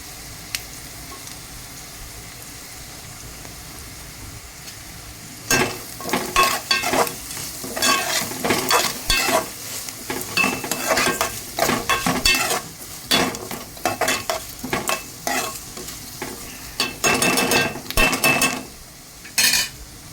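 Three green chillies fry in a pan. It is quiet at first, then a metal spoon stirs and scrapes briskly with irregular clinks over a steady close sizzle.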